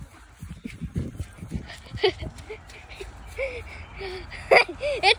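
Puppies whimper and yip in high, wavering cries, scattered and close, mixed with rustling and occasional soft voices.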